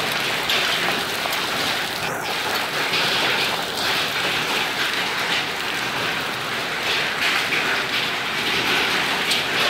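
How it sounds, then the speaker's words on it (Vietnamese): Steady, dense hail and rain pelting surfaces during an early-season storm in Kon Tum in the Central Highlands, a constant loud hiss with no pauses throughout. "Lâu lắm thì ở Tây Nguyên mới mưa đá các bạn ạ."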